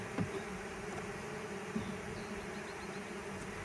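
Honey bees hum in a steady, dense buzz as they are slid out into a hive, the drone continuous and fairly close throughout, with a couple of brief soft knocks near the start and middle.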